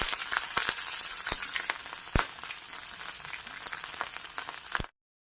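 Green chillies sauté in hot oil for tempering, giving a steady close sizzle with scattered sharp crackles and pops that cut off abruptly.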